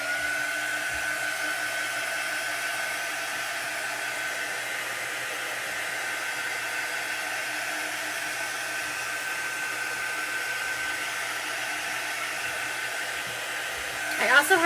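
A hair dryer blows steadily for about fifteen seconds over a chalk transfer laid on a chalkboard, a close, even whooshing whine with no talk, ending in a brief rustle.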